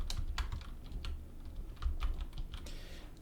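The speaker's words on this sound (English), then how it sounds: "you can listen to the typing ASMR" Close, quiet typing on a computer keyboard, irregular key clicks in a steady flurry with no voices.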